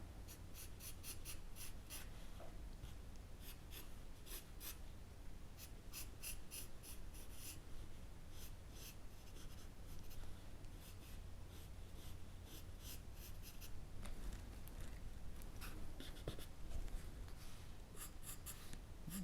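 Pencil scratches across paper while a head is sketched freehand, with bursts of quick light strokes close by over soft steady background hiss and no talking.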